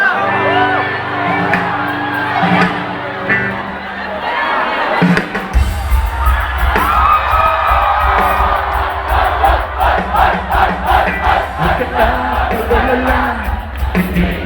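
A concert crowd at a show for a TIP 54th anniversary shouts and cheers loudly in a sustained roar, with a heavy rhythmic thumping beat entering partway through.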